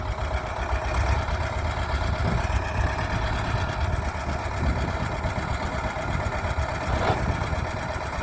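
A Kubota tractor engine idles steadily, a continuous low rumbling chug with no voices.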